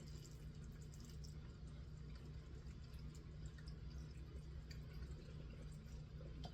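Brine poured over smoked vegetables in a container for fermented hot sauce, a faint, steady liquid wash running continuously without pause.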